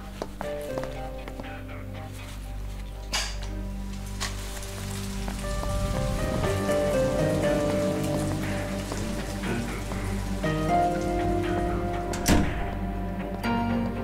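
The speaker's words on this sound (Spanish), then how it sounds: "Sí, está lloviendo muy fuerte" Heavy rain pours steadily on a surface for the whole stretch, a dense, continuous hiss with occasional thuds, mixed with tonal music or background sound.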